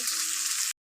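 Broad beans and bathua greens sizzle and fry steadily in a hot pan, the sound close and continuous with a short break near the end.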